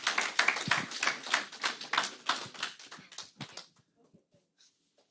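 A round of applause at a business conference on agricultural investment, dense clapping from a room of people that thins into scattered claps and fades out near the end.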